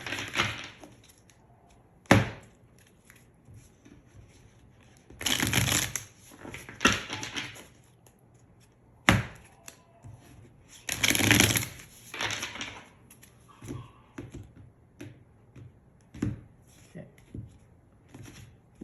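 Tarot cards being shuffled and handled, a scattered run of soft papery bursts and flutters with sharper taps between them, close and fairly quiet, with no one talking.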